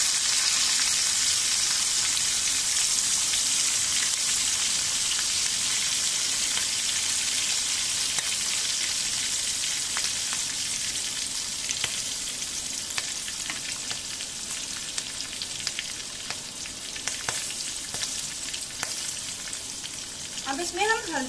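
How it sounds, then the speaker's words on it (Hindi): Cumin seeds and long-cut green chillies frying in hot oil give a steady, dense sizzle that holds loud and close for the whole stretch, with no talking over it. "गर्म हो जाए फिर हम उसमें जीरा डालेंगे। हरी मिर्च डालेंगे।"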